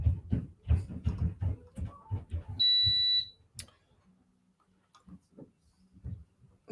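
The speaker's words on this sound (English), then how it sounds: "this Verizon Fios phone box that I can't get to stop beeping" A Verizon Fios phone box sounds a short, high electronic beep in a home, heard once between stretches of indoor talk and household noise.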